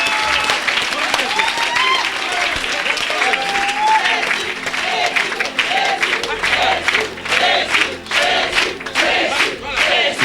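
A church congregation at a French-speaking worship service bursts into loud, sustained applause and cheering, with voices shouting over clapping throughout.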